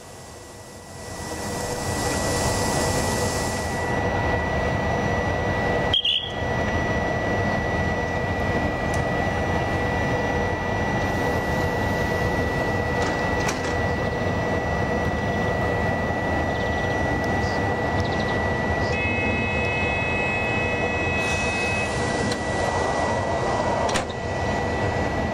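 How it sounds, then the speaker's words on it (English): A southbound train pulls out of the small San Pietro in Casale station on track 2, a loud, steady broadband roar and rumble building after a quiet start, with a sharp clank and brief high squeal partway through; no voices. "At 1:26 p.m., the southbound departs on track number 2."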